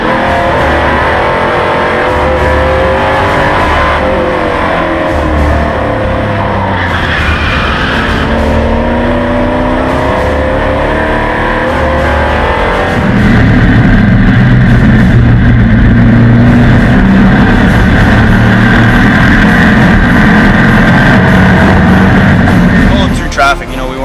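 A Grassroots 302 race car's engine roars loud and close as it accelerates on track after a restart, its pitch climbing through the gears before a heavier, deeper drone takes over.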